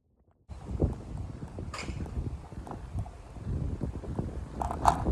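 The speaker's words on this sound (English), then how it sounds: "It's too windy." Wind gusts buffet the microphone with a low, rumbling roar that carries on throughout, with no voices, on a walk near Ivinghoe Beacon.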